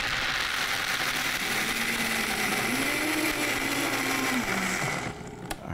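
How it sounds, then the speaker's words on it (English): A blender whirs steadily at high speed, briefly churning raw cobbler ingredients. The loud, continuous motor drone shifts pitch a little partway through, then stops abruptly, leaving a faint clink. "Just blend it, but not too much."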